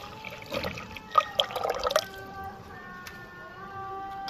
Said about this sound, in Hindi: तो अब हम इसमें डाल देंगे जो हमने दही और पानी में मिक्स करके लस्सी बनाई थी और बेसन डाला था।